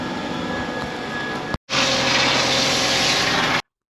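A vacuum truck straining to suck up heavy, thick sewage waste thinned with water gives a loud, steady rushing roar that cuts out briefly, resumes just as strong, then stops abruptly.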